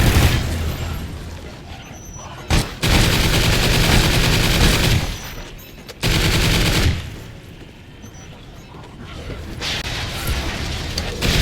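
Loud, sustained gunfire in Call of Duty Extinction mode: long bursts of automatic fire and booming shots, broken by a couple of short pauses.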